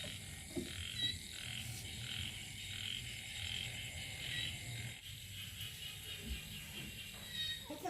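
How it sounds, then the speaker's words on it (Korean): Frogs croak near a hut above a rice paddy in Kampot, forming a faint, steady chorus of repeated calls over a low background hum. "개구리 소리 얼마만에 들어보는"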